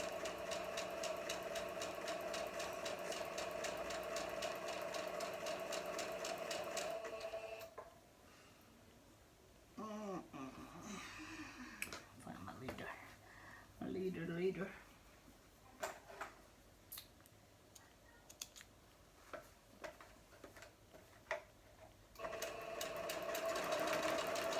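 Sewing machine chain piecing a Halloween quilt block: steady rapid stitching runs close and loud at the start and again at the end, with a quieter stretch of fabric handling and light clicks between. No one talks.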